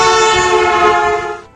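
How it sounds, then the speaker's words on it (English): A truck horn blares loudly as the truck drives past, a sustained harmonic blast that shifts slightly in pitch and fades away at the end. "If a truck was driving past you and they honked their horn"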